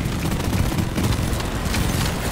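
Incendiary grenade in the Deep Rock Galactic video game bursts into a dense, loud, crackling roar of fire and chaotic combat noise that fills the whole short stretch without pause.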